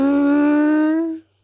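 A voice imitates a robot transforming into vehicle mode with one sustained, steady buzzing hum that cuts off after about a second, close and loud.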